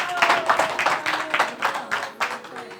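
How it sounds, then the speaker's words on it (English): An aerobics fitness group claps together, a steady run of about a dozen sharp, even hand claps close by with a voice mixed in. "Clap for yourselves."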